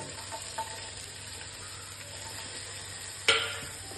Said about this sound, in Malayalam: അതിലൊന്ന് ചൂടായി കഴിഞ്ഞാൽ ചെറിയ ഒരു കഷ്ണം ഉള്ളി ആ കട്ട് ചെയ്തിട്ട് കൊടുക്കുന്നുണ്ട്